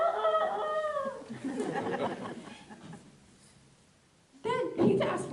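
A performer in a spring theater production of Peter Pan imitates a rooster crowing, two drawn-out vocal crows separated by a stretch of giggling and chatter from others on stage.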